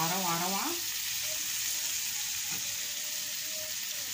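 Beef shawarma meat sautés in a pan with a loud, steady, close sizzle, and a faint voice can be heard under the frying.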